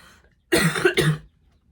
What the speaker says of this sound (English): I will try to edit those coughing bits out